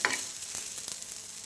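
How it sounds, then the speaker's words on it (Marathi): Okra roasts in oil over a high gas flame, a soft steady frying sizzle with a few faint stirring clicks, close but quiet. "आपली भेंडी एकदम छान अशी भाजत आलेली आहे."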